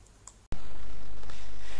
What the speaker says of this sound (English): We can access the calculator for springs by clicking on this button.